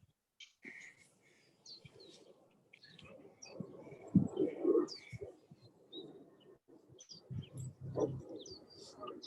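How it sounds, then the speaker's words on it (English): Birds chirp and coo outdoors behind the scene, a scattering of faint, intermittent calls with brief louder bursts, heard at a distance and without anyone speaking. "I like the birds in the background."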